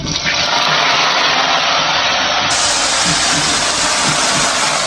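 Cut pieces of giant taro are washed under loud, continuous gushing water that rushes steadily and close throughout with no pauses.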